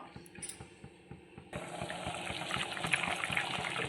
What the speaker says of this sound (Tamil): இப்போ நல்லா வந்து கொதி வந்துடுச்சு